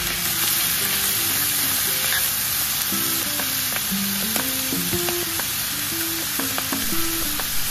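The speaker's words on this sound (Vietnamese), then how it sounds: "Đảo sơ qua để cho hến và sả được trộn đều vào nhau." Clams and lemongrass stir-frying in a pan, a steady loud sizzle with scattered scraping and clinking of a utensil tossing the ingredients, no voices.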